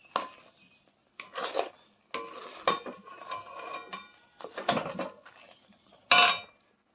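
A metal wok rattles and scrapes while coconut naru is stirred in it, giving irregular clinking knocks and scraping strokes, close and fairly faint, over a steady high insect-like hiss.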